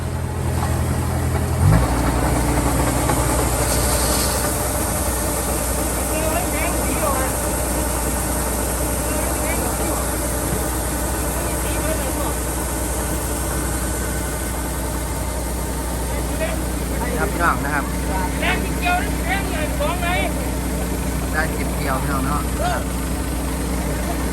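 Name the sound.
farm tractor engine running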